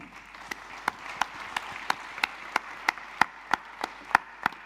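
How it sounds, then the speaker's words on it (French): At an innovation awards ceremony, the room applauds the three honorees, sparse hall clapping dominated by a dozen or so loud, evenly spaced individual claps ringing out over a faint background of other hands. "je pense que vous pouvez les applaudir"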